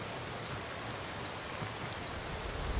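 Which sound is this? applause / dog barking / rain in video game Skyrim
rain in video game Skyrim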